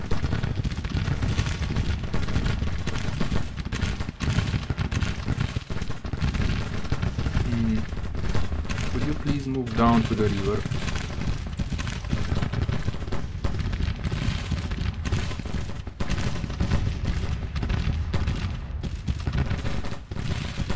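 Dense battlefield gunfire and booming cannon volleys roll on continuously in the Grand Tactician Civil War strategy game, a constant crackling barrage with heavier thuds, while a voice speaks briefly over it.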